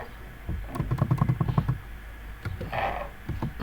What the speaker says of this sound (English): I am typing here my name